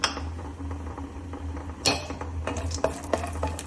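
Broken cashews stirred in ghee on a hot pan while being sautéed for carrot halwa, with a steady low sizzle and several sharp metallic spoon scrapes and clinks against the pan, close and without talk.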